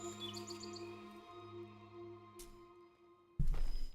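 A bird in Soulframe gives a few quick high chirps early on, over a sustained tonal musical drone, before a sudden loud burst of noise near the end.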